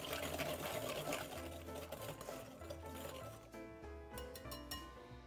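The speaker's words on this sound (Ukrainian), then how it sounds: "Перемішуємо." A whisk clinks rapidly against a bowl while plum cake dough is mixed with egg and vanilla sugar, producing a steady metallic rattle close up, then a few sharper clinks at the end.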